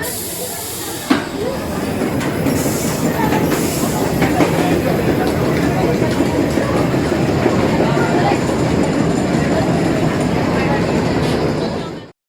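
A ride train pulling out of the station at Walibi Rhône-Alpes amusement park, a steady loud rumble of wheels and hiss running continuously, with a sharp clack near the start and some faint talk in the background.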